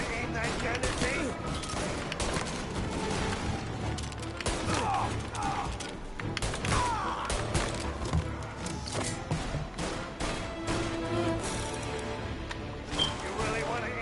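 Repeated gunshots ring out in rapid, uneven bursts alongside mechanical clicks, mixed with people talking throughout.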